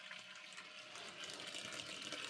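Water running from an RV faucet while antifreeze is flushed through the lines, a quiet steady rushing stream that grows slightly stronger partway through, with no talking.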